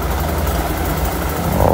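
Kawasaki KMX125 125cc motorcycle engine running steadily with a loud, dense buzzing drone that swells slightly at the end.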